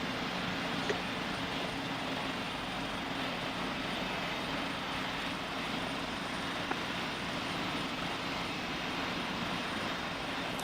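A Qantas airliner taking off in the PTFS flight simulator game, heard as a steady, loud broadband jet engine roar that holds evenly for about ten seconds with no voices over it.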